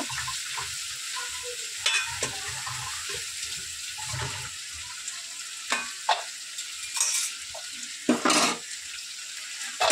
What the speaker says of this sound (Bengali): এবারে ভেজে রাখা আলুগুলো দিয়ে দেবো।